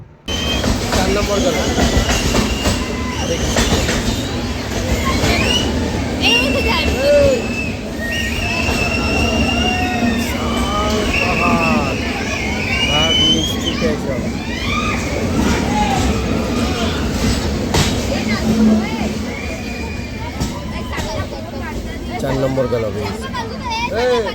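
A passenger train on the Visakhapatnam to Araku line rumbles along with steady wheel clatter and occasional squeals, while a voice talks over the noise and cabin chatter continues throughout.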